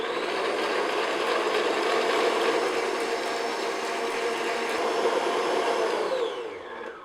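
An electric mixer whirs steadily at high speed while beating chocolate meringue in a bowl, a constant motor drone with faint rattling that runs unbroken for several seconds before winding down at the end.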